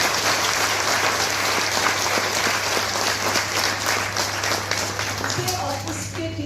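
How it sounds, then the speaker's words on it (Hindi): Loud, dense audience applause at a Teacher's Day event at a B.Ed college in Dharamshala, sustained over a steady low hum, tapering slightly at the end. "तो एक बार जोरदार तालियों के साथ"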